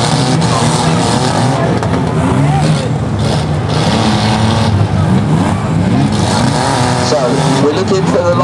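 A banger race car engine roars at an Arena Essex demolition race final, loud and close. Revving and grinding run continuously, with an announcer talking over it throughout.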